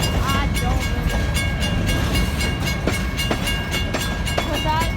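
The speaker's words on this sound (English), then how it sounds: "this train is probably going to be a bit long" A BNSF grain train rolling on the Kiamichi Railroad gives a loud, continuous rumble with rhythmic clicking wheel beats and brief squeals, passing close by while people talk underneath.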